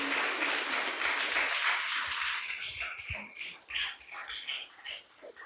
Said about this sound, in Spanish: Denle un fuerte aplauso una vez más al Señor.